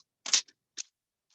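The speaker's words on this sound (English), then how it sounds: "I'm just moving back and forth a little bit with my scissors, just kind of hacking at it" Scissors snip at the edges of paper while a mask is being cut out: two or three short, crisp, quiet cuts heard alone in a silent room.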